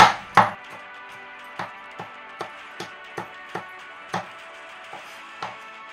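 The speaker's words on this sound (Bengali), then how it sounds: "দুটো কাঁচা লঙ্কা কুচিয়ে নিচ্ছি।" A knife chops two green chillies on a board, about a dozen crisp, close taps at an uneven pace, a few louder knocks at the start, with no talking.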